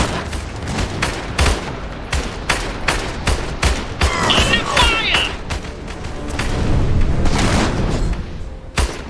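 Rapid rifle and machine-gun fire crackles through a battle in the Iron Harvest strategy game, dense bursts of shots at close and mid distance with deep booms underneath, continuing steadily throughout.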